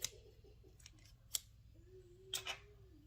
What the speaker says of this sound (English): I am going to cut about that amount off